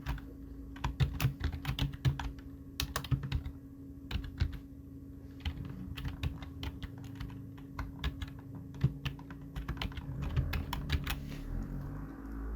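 Steady typing on a computer keyboard while entering text in Adobe Illustrator: rapid, close key clicks in irregular bursts with brief pauses, over a faint constant hum, with no voices.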